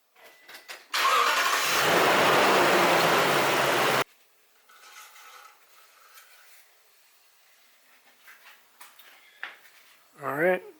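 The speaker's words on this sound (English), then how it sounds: "then I'm going to turn the truck on, run it for about 5 minutes" A 2018 Toyota Tundra pickup engine cranks and catches, running loud and steady for about three seconds before cutting off abruptly, followed by quiet rustling, faint clatter and a short voice near the end.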